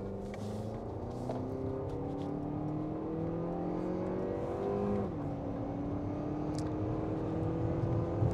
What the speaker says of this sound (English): let's go ahead and do an acceleration run.